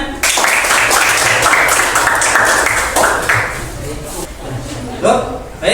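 A small group applauding in a classroom lesson, a few seconds of dense, fairly loud clapping mixed with voices, fading out before a final burst.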